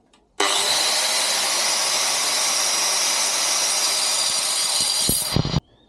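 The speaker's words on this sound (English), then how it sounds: "So I'm just going to file it down a bit so there's no sharp pieces" A brake caliper casting on a Honda CR-Z front brake is worked over to smooth off a moulded edge, giving about five seconds of loud, continuous, even abrasive rasping that stops abruptly, with no talking.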